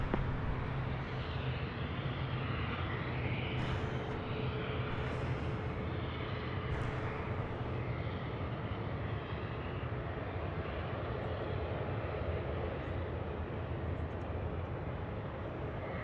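An airliner lands at Toronto Pearson airport, its engines making a loud, steady broadband roar that holds throughout, with no talking over it.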